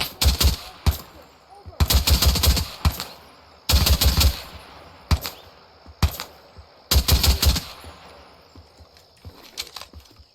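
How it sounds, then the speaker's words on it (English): Bursts of automatic gunfire in the shooter game Incursion Red River come from a distant enemy, several rapid volleys spaced a second or two apart, crisp and fairly loud. "he's shooting from way far away"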